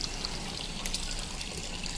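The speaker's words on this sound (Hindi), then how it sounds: "मैं इन सब में आरओ का पानी डालती हूँ" RO water pours from a container into small glass bottles holding money plant cuttings, a soft, steady trickle that runs continuously and fairly quietly with no voices.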